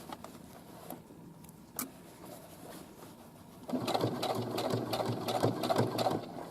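A sewing machine stitches a fabric casing near a pocket; after quiet rustling and a soft thump, the motor starts up close and runs with a steady, buzzing rattle to the end.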